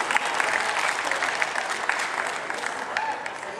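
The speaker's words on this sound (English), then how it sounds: "Big round of applause." Steady crowd applause outdoors at a Walk to End Alzheimer's gathering, many hands clapping together in a continuous, even wash at moderate volume.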